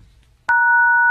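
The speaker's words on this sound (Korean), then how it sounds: "주기자한테 전화 좀 할게" A telephone call being placed: after a short quiet moment, a loud, steady two-tone ringback or dial tone starts abruptly and holds to the end.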